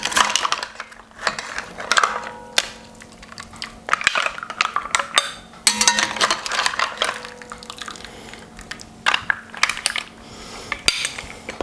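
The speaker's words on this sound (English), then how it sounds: "with my slotted spoon, I'm just going to put them into the bowls" A slotted spoon scoops cooked spiced mussels into bowls, making loud, irregular clinks and rattles of shells against metal and crockery in repeated close bursts.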